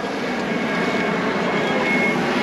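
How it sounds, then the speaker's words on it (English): Airplane overhead at a street bike ride-out, a steady broad engine roar filling the background without talk. "Oh, look at the airplane though."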